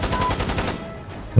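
A rapid burst of automatic gunfire from an AK-74 in the video game Insurgency: Sandstorm rattles for under a second, then cuts off, leaving a brief quiet tail.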